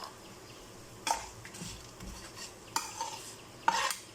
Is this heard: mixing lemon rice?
yes